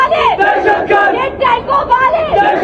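Crowd chanting political slogans in rhythmic bursts, loud and close, voices rising and falling in unison.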